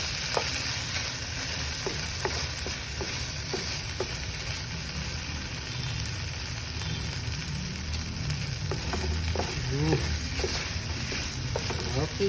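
Pork sisig made with Argentina ground pork frying in a pan while egg is mixed in, a steady close sizzle with scraping stirring strokes throughout, a low hum underneath.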